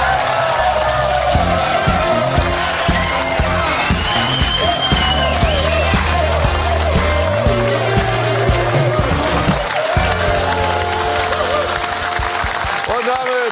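A studio audience on a German quiz show breaks into loud, sustained applause with cheering and whoops, the dense clapping filling the space while a voice talks over it.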